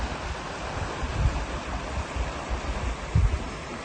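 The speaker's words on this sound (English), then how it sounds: "And this is the Salt Creek." Salt Creek flowing out of the outlet side of an old stone canal culvert on the abandoned Genesee Valley Canal, a steady broadband rush of running water with a few brief louder surges, close and continuous with no talk.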